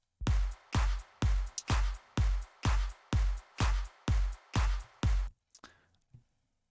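Slap house chorus drums: punchy kicks and claps with a stadium-like spread, hitting in a steady four-to-the-floor pulse with a hi-hat loop layered over them, about eight loud hits before a short tail and silence.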